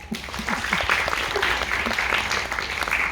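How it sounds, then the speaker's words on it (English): Students at a business school session applaud together, a steady wash of many hands clapping that holds at an even level throughout. "Clap for yourself, please."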